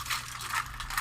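A vodka martini shaken in a cocktail shaker, giving a rhythmic rattling swish of ice in regular pulses about every half second, close and moderately loud, no talk.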